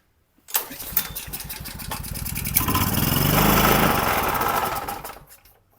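A small gasoline generator engine cranks with a few sputters, then catches and runs loudly and steadily for several seconds, close by, before its roar tapers off.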